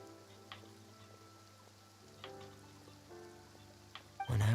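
Steady rain pours in the video game Genshin Impact, a soft continuous patter with occasional louder drops, low and ambient throughout, rising to a louder burst at the very end.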